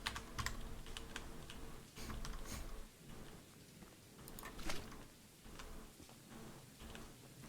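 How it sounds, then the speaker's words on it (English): Rapid computer keyboard clicking in uneven bursts, close and fairly quiet, with short pauses between flurries of keystrokes. "Occasional keyboard clicking comes through"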